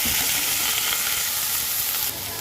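Taro and potato frying in a pan as they are stirred, a dense steady sizzle with soft scraping of the spoon, close and continuous without any voices.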